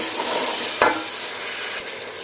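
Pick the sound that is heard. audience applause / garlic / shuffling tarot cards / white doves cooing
garlic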